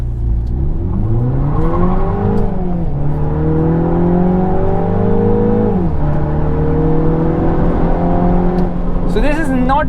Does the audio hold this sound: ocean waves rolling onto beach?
no